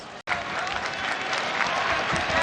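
A crowd cheers and applauds at a Muay Thai fight between Rodtang and Demetrious Johnson, a dense, loud wash of clapping and roar that starts abruptly and holds steady throughout.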